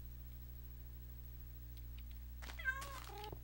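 A few short cat meows from a Minecraft game toward the end, with faint electronic tones over a steady low hum.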